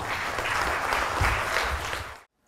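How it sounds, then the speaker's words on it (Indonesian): A crowd at an election vote recapitulation meeting claps in steady, dense applause for about two seconds. The applause is close and even, then cuts off abruptly into silence. "Terima kasih untuk Kecamatan Bakung, kasih tepuk tangan."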